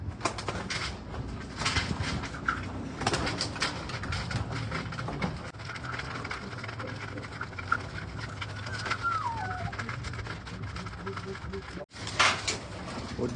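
Racing pigeons coo and shuffle while being fed in a small loft, their low murmuring calls and occasional wing flutters sitting under nearby voices and ambient noise.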